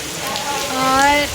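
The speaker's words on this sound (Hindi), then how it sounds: "आज इतनी अच्छी हवा चल रही है और बारिश हो रखी है।" Steady rain falls outside in a continuous dense hiss, fairly loud and close, with a breezy wash and faint tonal hum beneath.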